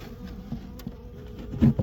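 Honeybees buzzing at a hive in spring: a steady, low, faint drone throughout, with no voices.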